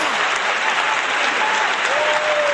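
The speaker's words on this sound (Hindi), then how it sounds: "अबे ताली, अबे मेरे लिए भी तो ताली बजाना" Steady, loud crowd applause for a comedian on stage at a 15 August Independence Day comedy show, a continuous wash of clapping lasting a few seconds.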